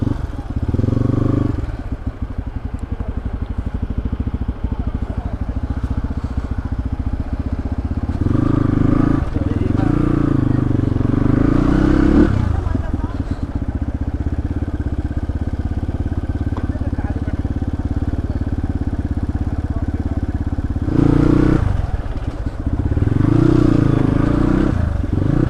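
Motorcycle on a rough offroad mountain road to Kalinchowk in snow and a traffic jam, its engine chugging and idling close by with a few revving surges, while people talk over it.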